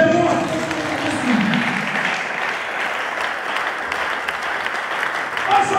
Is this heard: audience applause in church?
yes